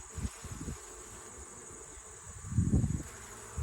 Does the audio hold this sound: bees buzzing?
yes